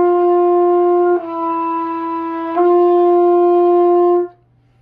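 A single sustained brass note on a trumpet played with the second valve pressed, steady and close, with two brief re-articulations partway through before it stops; no talking.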